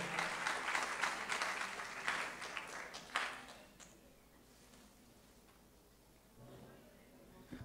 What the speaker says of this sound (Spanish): Así que un gran aplauso a la técnica 1 de Carlos Casares